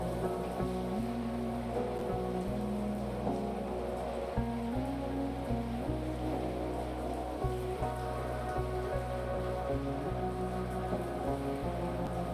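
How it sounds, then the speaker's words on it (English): Soft, steady rain patters against window panes, a dense even tapping beneath a gentle musical drone with no voices. "The rain taps softly against the window panes near Lily's bed"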